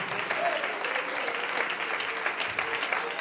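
A church congregation at a Christian sermon applauds in a short, continuous burst of clapping with a faint murmur of voices beneath it.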